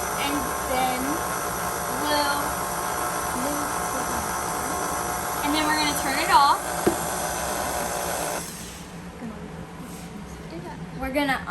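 Stand mixer whirs on low speed through oatmeal cookie dough, a steady close motor hum that drops away near the end, with people talking over it the whole time.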